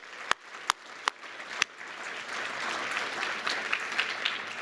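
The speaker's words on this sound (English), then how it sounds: "let's give them a round of applause as well" Audience applause rises and holds steady at a university arts and sciences faculty recognition ceremony, a few sharp isolated claps at the start giving way to sustained, moderately distant clapping from a large crowd.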